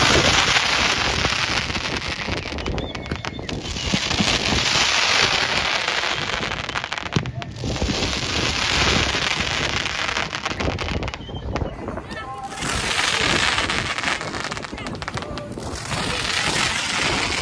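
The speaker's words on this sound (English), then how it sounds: "Little fireworks display also, besides the wall of water." Small fireworks display bursting over the water show on the Chapala malecon in Mexico, with scattered crackles and pops mixed into a steady roar of blowing wind and spraying water, voices talking throughout.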